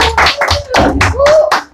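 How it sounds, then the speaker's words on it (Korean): Audience at a Korean political briefing breaking into applause, a burst of clapping that swells and continues steadily for under two seconds, close and fairly loud, with a voice faintly mixed in. "박수 쳐도 됩니다."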